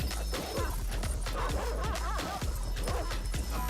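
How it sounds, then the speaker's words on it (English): Several dogs in a video game bark and yip in quick bursts over a constant low rumble, the barks overlapping as if answering each other. "Are they barking at each other?"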